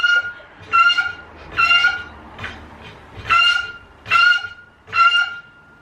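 Repeated nasal honking calls, about seven bursts in a steady rhythm, sound loud and close beside a car being worked on, heard alone with no talk.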